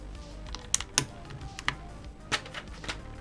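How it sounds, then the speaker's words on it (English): Plastic keycaps clicking and snapping onto the function row of a custom mechanical keyboard during a build, a scatter of sharp, irregular taps at close range with no voices. "Putting the function keys in there."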